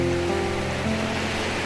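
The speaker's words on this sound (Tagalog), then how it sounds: "So ayun yung mga alon." Ocean waves wash in at a beach resort, a loud, steady surf roar filling the moment without any voices over it.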